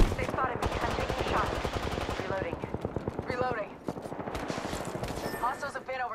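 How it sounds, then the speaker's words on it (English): Rapid automatic gunfire in the video game Apex Legends rattles continuously in dense bursts, loud and close, with a brief lull before the shooting resumes. "Throw my grenade out. Opening fire."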